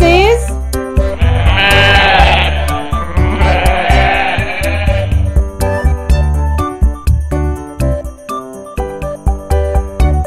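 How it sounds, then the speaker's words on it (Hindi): A sheep bleats loudly and clearly in a kindergarten animal-sounds lesson, a long wavering bleat followed by a jingly tinkling musical passage with rhythmic beats. "And sheep says."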